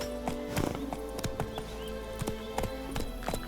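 Horse hooves clip-clop at a steady trot in The Witcher 3 video game, a regular run of hollow hoof beats over a constant background hum, close and without talk.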